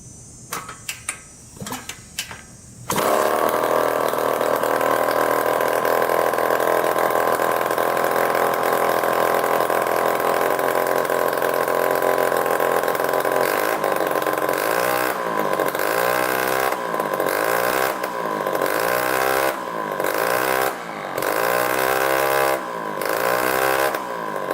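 A Suzuki RM 125 two-stroke dirt bike that had sat for 15 years starts after a few brief noises, then runs loud and steady up close, its idle later breaking into a rhythmic, pulsing surge as it hunts.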